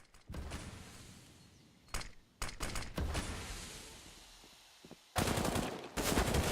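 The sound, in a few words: FAMAS rifle gunfire in a shooter video game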